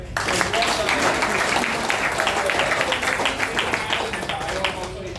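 An audience at a business talk claps for a professor, the broad applause rolling on steadily for several seconds with dense overlapping hand claps, and a voice briefly heard over it.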